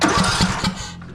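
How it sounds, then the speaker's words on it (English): A TroyBilt lawn tractor engine cranks and catches, ending in a brief rough, loud chug before it settles. "I'm gonna crank it back up."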